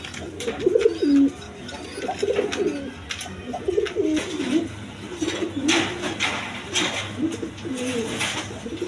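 Pigeons for sale coo repeatedly at close range, a steady run of soft throaty calls with a few brief bird chirps and light background noise.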